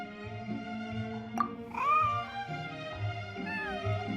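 A white, fluffy kitten in the video game Genshin Impact meows a few times, one drawn-out call standing out over steady game music.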